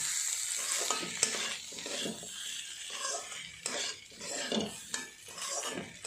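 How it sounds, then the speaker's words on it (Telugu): Boiled potatoes are stirred into a frying pan of sizzling aloo capsicum curry, with a spatula scraping and clinking in an uneven rhythm over a steady hiss of hot oil. "ఇలా వేసుకున్న తర్వాత కొంచెం ఇలా కలుపుకోవాలి"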